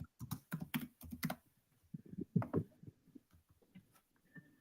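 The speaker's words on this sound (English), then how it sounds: "Okay, I'm typing it in." Fingers type on a computer keyboard, a burst of quick close clicks and clacks, with a pause and then another short flurry of keystrokes.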